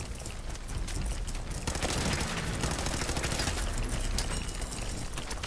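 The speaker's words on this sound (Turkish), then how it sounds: "Ben oraya bir tane daha bomba atayım." Bombs explode and gunfire rattles in a Fallout 4 castle battle against a Mirelurk Queen, a dense, continuous barrage of loud booms and rapid shots with no gaps.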